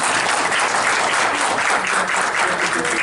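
Audience at a holistic-themed lecture event applauds the speaker, a dense, loud, continuous wash of clapping from a large crowd, sustained evenly throughout.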